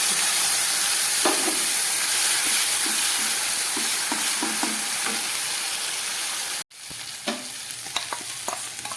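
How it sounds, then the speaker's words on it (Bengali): Ground mustard paste and a green chilli frying on a low flame for a fish curry: a steady, close sizzling hiss with occasional stirring knocks and a brief break near the end. "দিয়ে দিলাম একটা কাঁচা লঙ্কা এইবারে আমি এই বেটে রাখা সর্ষেটাও দিয়ে দিচ্ছি"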